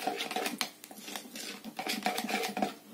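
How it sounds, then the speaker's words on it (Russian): A spoon stirs a garlic fish attractant mixture with lemon acid in a container, producing soft repeated clinks and scraping taps in an uneven rhythm, close and fairly quiet. "Еще раз тщательно размешаем"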